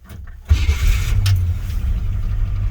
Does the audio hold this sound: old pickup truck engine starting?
yes